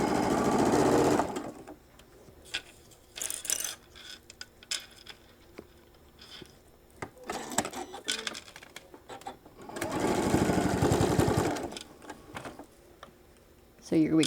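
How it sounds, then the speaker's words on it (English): A sewing machine stitches across a shoulder bag at a 3/8 inch seam in two sustained bursts of rapid, close chatter, one at the start and one later, with clicks and handling noises between them. "I am sewing this one all the way across at the 5 or the 3/8 of an inch"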